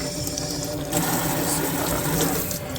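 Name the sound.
water running while rinsing collard greens in the sink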